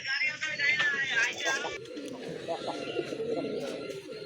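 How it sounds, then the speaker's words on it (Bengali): A pair of large Rajgolla pigeons coo, throaty calls near at hand mixed with a bright high chirping early on, while people talk nearby. "এক জোড়া রাজগোল্লা কবুতর মার্শাল্লাহ বিগ সাইজের কবুতর"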